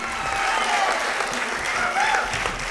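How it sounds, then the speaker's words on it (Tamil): Audience applause at a Tamil stage event, a steady dense wash of clapping that fills the whole moment with a few voices calling out within it. "ஒரு கரகோஷம் கூட"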